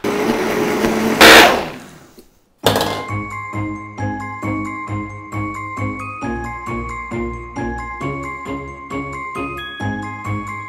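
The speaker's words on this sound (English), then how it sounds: "And now we blend." A blender whirs loudly through a banana, cocoa powder and almond butter smoothie for about two seconds, cuts off abruptly, then gives way to bright tinkling chime music.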